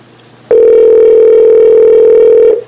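A telephone call tone: one loud, steady, unbroken electronic tone lasting about two seconds, close and alone, with quiet before and after.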